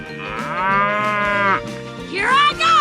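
Cartoon cow in a 3D animal slide game gives a long, loud moo that bends upward toward the end, close and heard alone.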